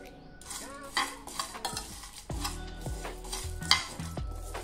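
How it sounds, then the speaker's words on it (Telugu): A spoon stirs and scrapes chai masala spices, including fennel, nutmeg and black cardamom seeds, as they dry roast in a pan over a low flame. The sound is a close, continuous rustling and scraping with a few metallic clinks and no voices. "ఈ మసాలా దినుసులన్నీ బాగా మంచి సువాసన వచ్చేంత వరకు లో ఫ్లేమ్ మీద అంటే సన్న సెగ మీద వేపుకోవాలి"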